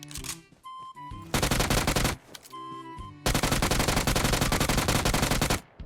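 Bursts of rapid automatic gunfire in PUBG Mobile, loud and close, in two long sustained volleys separated by shorter gaps with game tones and effects, and no talk over it.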